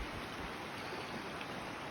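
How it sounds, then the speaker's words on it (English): Steady, soft rush of flowing creek water, a continuous broadband wash with no voices. "You can hear the water."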